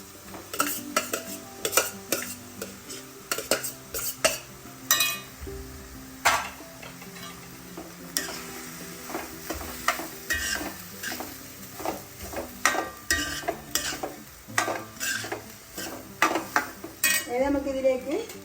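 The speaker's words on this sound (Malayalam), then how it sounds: "ഇനി നന്നായി ഇളക്കി കൊടുക്കാം." A spoon stirs kadala uppumavu with rice in a pan, giving repeated clinks and scrapes against the metal in an irregular rhythm over a faint sizzle, close by and fairly quiet.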